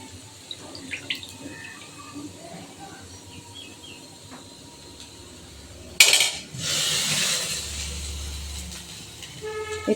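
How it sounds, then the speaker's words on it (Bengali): A kitchen tap suddenly gushes onto paneer being washed in a sink, a loud splashing rush after quiet background clinks of dishes. "এটা পনিরটা এবার আমি ধুয়ে নিব ভালো করে।"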